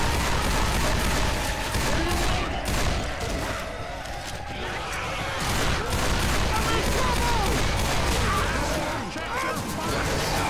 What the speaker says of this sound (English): I'm shooting at the tank's face.